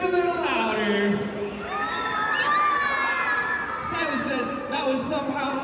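A crowd of children screams loudly and continuously, many high voices overlapping in sustained shrieks and shouts.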